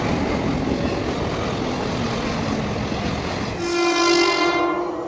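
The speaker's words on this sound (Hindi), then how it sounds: "लोकल ट्रेन आ चुके हैं, लेकिन ये फास्ट है," A fast train speeding through a station without stopping, a loud continuous roaring rumble of wheels and carriages, then a sustained horn blast near the end.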